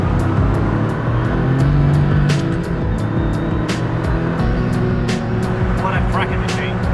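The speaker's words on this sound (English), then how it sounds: "Feel that turbo engine." Porsche GT1 road version with a turbo engine, heard from inside as a loud, steady drone with broadband roar throughout, sharp transient clicks and brief higher whines layered on top.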